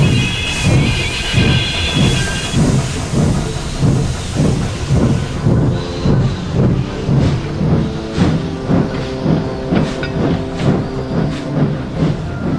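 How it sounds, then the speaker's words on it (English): A steam locomotive chuffs in a regular, accelerating rhythm with hissing steam and a brief whistle-like tone near the start, loud and close. "At last, the express train started to move."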